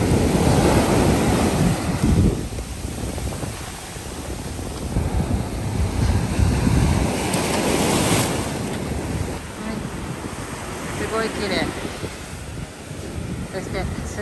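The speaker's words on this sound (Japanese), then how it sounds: "見てください、この綺麗な海だけど波が高いここは。" High ocean waves surge and crash steadily along a beach at a Pullman Khao Lak resort in Thailand, with a full roaring wash and gusts of wind buffeting the microphone.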